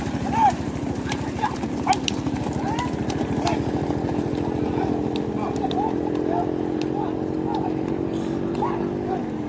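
Rapid hoofbeats and rattling wheels of racing bullock carts rush past at a beach race amid a loud, crowded roar, with a voice calling over a steady engine-like drone.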